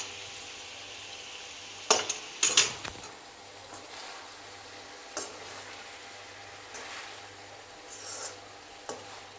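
Food being stirred and mixed in a pan, with a steady soft sizzle of frying underneath and a few louder scrapes and clinks of a utensil against the pan early on, close by and without speech.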